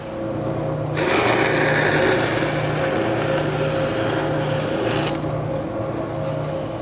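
Corners being trimmed off a styrofoam box beneath a bolt-in roll bar in a Porsche GT3, a close, loud buzzing power-tool whine lasting about four seconds, with quieter motor hum before and after.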